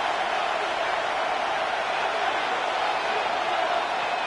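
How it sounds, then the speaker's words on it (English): Dense, constant roar of a large stadium crowd during an EA Sports football game between the Colts and the Titans, steady and loud with no clear individual voices or breaks. "this crowd doing their best to make a lot of racket"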